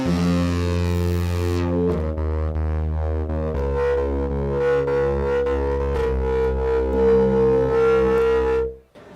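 A thick, heavy synthesizer plays sustained chords that shift every couple of seconds, loud and dense with rich harmonics, then cuts off abruptly at the end.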